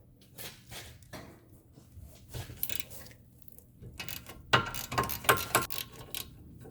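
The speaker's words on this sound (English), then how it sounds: "get yourself a 17 mil shallow socket and a ratchet and loosen these bolts up" A ratchet and 17 mm shallow socket work loose the brake caliper bolts on a 2013 Hyundai Santa Fe Turbo Sport, giving scattered metallic clicks and clanks that grow louder and busier toward the end.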